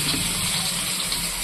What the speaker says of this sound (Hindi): तो पहले हम मछली को डाल देते हैं।